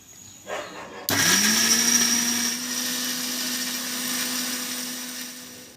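A mixer grinder blends garlic, ginger, two tablespoons of cumin and fifteen dried chilies into a paste. After a short sound it kicks on with a sharp start into a loud, steady, high whine that keeps running to the end.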